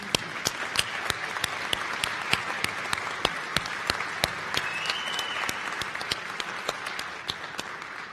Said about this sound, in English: Thank you for that wonderful applause for the recipients of the Individual Academic Achievement Awards